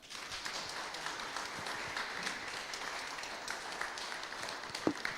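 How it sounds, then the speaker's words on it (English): An audience claps for an award recipient at a Black History exhibition event, a faint, sustained round of applause from a roomful of people lasting about five seconds. "I want to say this man deserves a round of applause."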